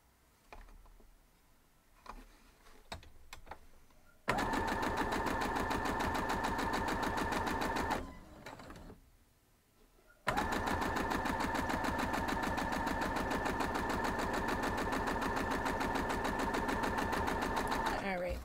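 A sewing machine stitches quilt block pieces in two long, loud, steady runs of rapid mechanical chatter, split by a brief pause. Quieter handling noises come before the first run. Very close.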